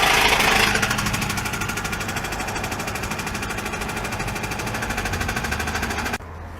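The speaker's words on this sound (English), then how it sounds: "Customer states that there's a loud noise coming from the engine." A car engine runs with a loud, fast rhythmic knocking clatter, steady and close, before dropping slightly in level at the end.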